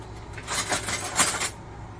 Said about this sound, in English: So I need to find a spoon. So what I'm going to do is stir.